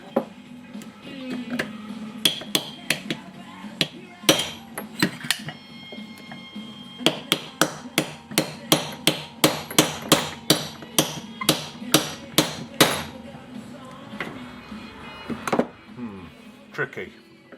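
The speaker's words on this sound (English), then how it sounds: "we're going to hit it with a punch and hammer" A hammer strikes a steel punch to drive a shaft out during the strip-down of a Premier 252: a close series of sharp metallic blows, first scattered, then a quick, steady run of hits, ending with a few spaced taps.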